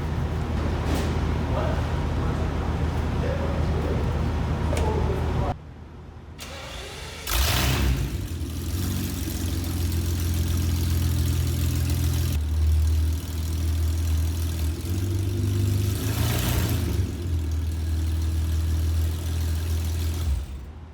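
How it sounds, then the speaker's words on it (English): A BMW V12 with the exhaust removed, running straight-piped like open headers: loud rough idle, a drop as it cranks and fires up again, then revs rising and falling, with people talking nearby. "We pulled the exhaust off. It sounded like open headers, basically."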